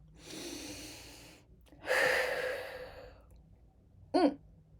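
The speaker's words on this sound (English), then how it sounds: "Take a deep breath." A person takes a slow deep breath in and lets it out in a long audible sigh, close and soft, then gives a short sharp sniff or gasp near the end.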